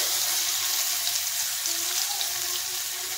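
Crushed garlic and black cumin seeds sizzle steadily in hot oil, a close, continuous frying hiss with no pauses and no one talking.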